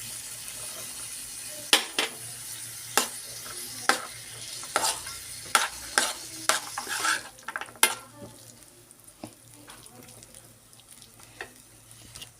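Peas stirred into a sizzling pan while cooking paneer, aloo and matar, with a steady run of sharp spoon-on-pan scrapes and clinks over a soft fry, then quieter stirring.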